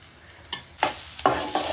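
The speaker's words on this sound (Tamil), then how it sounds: "இப்போ வெங்காயம் நம்ம போட்ட மசாலா எல்லாம் வதங்கிடுச்சு" Onions and masala sautéing in a pan for egg gravy, stirred with a spoon in four distinct scraping strokes over a soft, steady sizzle, close and alone.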